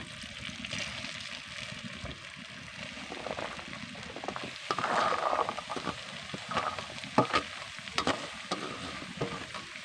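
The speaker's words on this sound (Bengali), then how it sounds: "এবার মশলার সঙ্গে সব কিছুকে মিশিয়ে নেবো" Grated carrot, potato and beet with green peas are stirred into fried masala in a pan for a beet pitha filling. A steady sizzle runs under repeated scraping, clattering stirring strokes close by.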